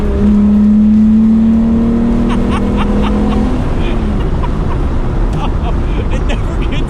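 A Volkswagen Rabbit MK1 with a VR6 engine drives with a loud, steady engine drone and a clear rising tone early on, heard from close by with road and wind noise filling the background.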